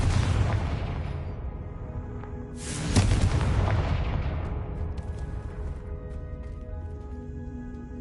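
A Confringo fire spell bursts in Hogwarts Legacy, a loud whooshing blast that swells and rumbles before fading over a continuous low background din of the game.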